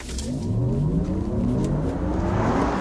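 Electric Porsche Macan Turbo accelerating hard, a loud rising electric whine with climbing motor tones and rushing road noise over a few seconds, close and with no talk.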